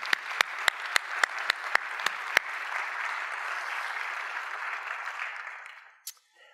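A few loud, separate claps ring out one after another before a congregation at Good Shepherd church breaks into fuller applause, which holds steady and then fades away near the end.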